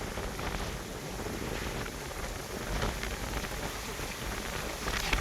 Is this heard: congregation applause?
no